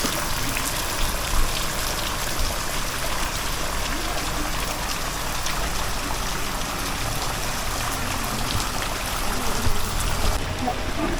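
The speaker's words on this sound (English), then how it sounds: "Fountains and little waterfalls." Fountains and small waterfalls in a Buddhist temple garden in Lovina, Bali, give off a continuous close splashing and trickling wash of water, steady throughout.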